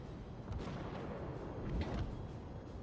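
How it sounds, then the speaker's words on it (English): Naval artillery shells in World of Warships, with the USS New York under fire from a Fuso battleship: a couple of dull, booming impacts over a steady roaring sea-and-engine rumble, moderately loud, no talk. "Shells are flying in."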